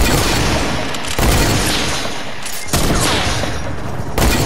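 Sniper rifle fire in a snipers-only creative room in Fortnite, loud booming shots separated by a few seconds, each followed by a dense crackling rumble, with no talk.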